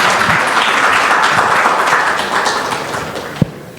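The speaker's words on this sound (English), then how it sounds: "Let's give her a big round of applause." Audience at a women's health panel discussion applauds a speaker with sustained, dense clapping that fades toward the end, closing with a single sharp thump.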